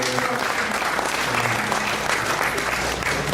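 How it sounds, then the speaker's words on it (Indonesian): Applause from a workshop audience at an entrepreneurship session for university students, steady dense clapping that fills the whole stretch at an even level with faint voices mixed in beneath. "Oke, sebelumnya kita beri tepuk tangan dulu dong buat Bapak Agus."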